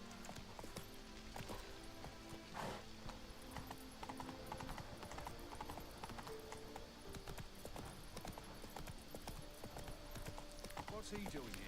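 Horse hooves clip-clop steadily in Witcher 3 as the mount trots along, set against a busy, continuous game soundscape with music and ambience, with someone talking over it now and then.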